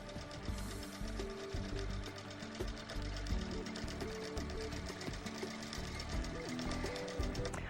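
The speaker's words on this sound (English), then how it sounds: "I finished basting the top of the quilt." An HQ Sixteen longarm quilting machine bastes a quilt, its rapid, steady stitching chatter running quietly and evenly throughout with no one speaking.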